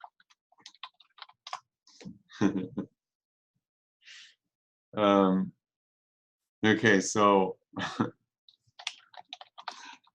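Light, rapid keystrokes on a wireless computer keyboard patter in scattered bursts close by, broken up by someone speaking briefly a few times.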